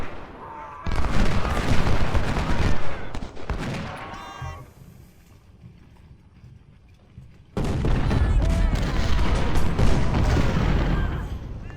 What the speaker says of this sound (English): it's a single shot going out and then it explodes